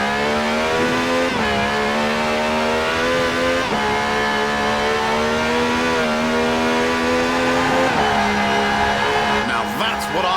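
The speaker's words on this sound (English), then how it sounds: "This has a V12 with over 750 horsepower" A V12 sports car with over 750 horsepower in Forza Horizon 4 accelerates hard, its loud engine note climbing in pitch through several gear shifts as it pulls away.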